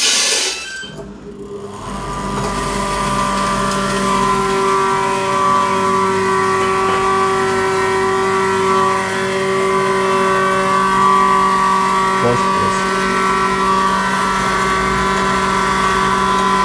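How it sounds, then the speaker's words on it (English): Atta flour mill machine grinding red lobia beans, a loud steady motor drone with a strong humming tone and a constant grinding rush that holds at an even level after a brief start. "later then we brought all these grains for grinding into this atta making machine"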